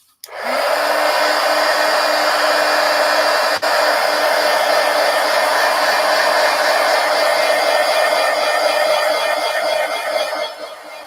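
A hair dryer blows loudly and steadily at close range to dry paint on a mixed media art journal page, a constant whooshing roar that runs almost the entire time and fades slightly near the end.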